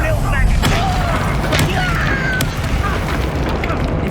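Incendio fire spell cast during combat in Hogwarts Legacy, a booming fiery burst over a rumbling low bed with crackling flashes, with game voices in the mix.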